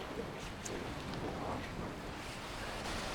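Ocean waves breaking on a UK beach give a steady, close broadband wash of surf with a soft rush of wind, continuous and unbroken, with no voices.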